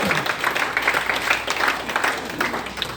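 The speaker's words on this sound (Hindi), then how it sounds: "इसके लिए ताली हो जाए।" Applause from a workshop audience in Digha, India, a short burst of brisk, moderately loud clapping that swells and fades over a few seconds.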